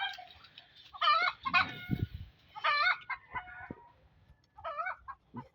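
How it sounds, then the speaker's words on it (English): Angry chicken clucking in bursts, loud and close: sharp, agitated squawks and clucks in several rapid clusters with short pauses between them. "Chicken is mad."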